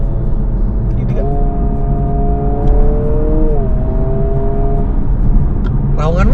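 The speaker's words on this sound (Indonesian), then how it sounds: "Raungan mesin kan? Bukan suara palsu." Honda Prelude engine revving in a garage, a steady hum rising briefly in pitch as the throttle is pressed, then holding and dropping back, with people talking over it throughout.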